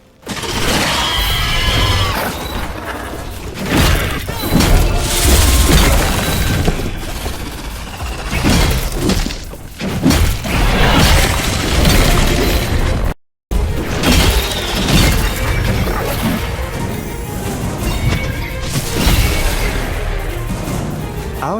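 A shattering power effect from the action game Atlas Fallen, heard as a loud, sustained mix of crashing, smashing bursts and mechanical clatter with a brief dropout midway, continuous and dense throughout.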